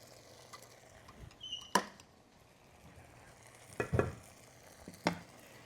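Cooked pasta and cherry tomatoes tossed together in a pan, quiet clinks and scrapes of utensils against the pan with a few distinct sharp knocks over a faint background sizzle.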